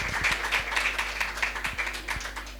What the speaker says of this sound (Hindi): जोरदार तालियां बजाएं चलिए